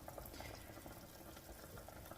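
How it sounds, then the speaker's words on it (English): Chicken stock made from bones bubbles away in a pot, a faint, steady wash of soft boiling and gurgling with no voices over it. "Down here, bubbling away is the chicken stock from the bones."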